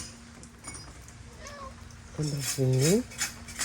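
A cat meows in a short rising-falling run, a couple of soft calls followed by a louder, longer pair close by, with faint clinks and quiet room noise behind.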